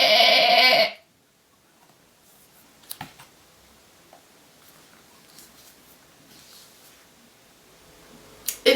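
A single loud sheep bleat opens the clip for about a second, then gives way to near silence broken only by faint clicks.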